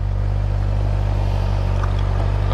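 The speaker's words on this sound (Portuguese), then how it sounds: "Esquentando o motor da fera aí" A motorcycle engine warms up with a deep, steady low-pitched drone and fine rhythmic pulsing, continuous and close with no talking.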